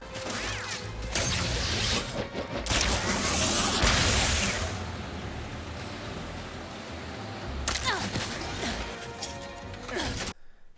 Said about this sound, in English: Goopy-sounding jets, crunchy metallic smashes, as uncountable amounts of loot are magnetically picked up